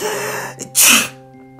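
A single sharp sneeze bursts out after a short gasping inhale, loud and close, followed by quiet.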